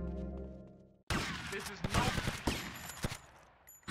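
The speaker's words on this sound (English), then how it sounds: "I'm shooting him point blank with the shotgun" Shotgun blasts in GTA Vice City, a string of loud, sharp point-blank shots with irregular spacing after a brief musical intro, close and punchy.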